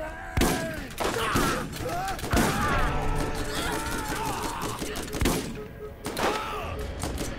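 Chaotic Borderlands firefight with repeated loud gunshots and impacts scattered through the scene, mixed with game sounds and voices talking over the action.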